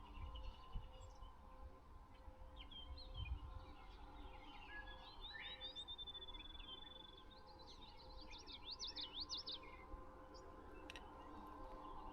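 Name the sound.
birds chirping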